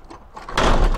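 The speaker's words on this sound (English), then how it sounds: "let's do a reverse out and shut that door" A church door swung shut with a loud bang, a brief creak and shuffle followed by a heavy, booming slam that rings briefly, close up.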